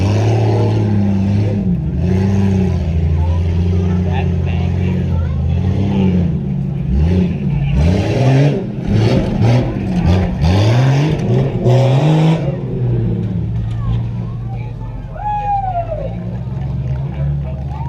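A Tuff Truck driven by a first-time racer charges through the whoops section at Chambersburg, its engine roaring and rising and falling in pitch as it bounces over the bumps, with loud bursts in the middle and a crowd murmuring underneath.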